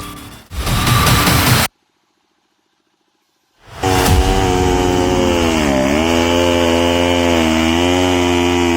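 A chainsaw roars at close range as it cuts through a log. It breaks off into a brief silence, then comes back at full throttle, its pitch dipping and rising as the chain bites into the wood.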